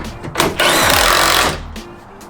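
A power tool briefly zaps down a 16mm bolt on a Toyota Tacoma bed stiffener, one loud buzzing whir lasting about a second, rising and then tapering off, close to the microphone.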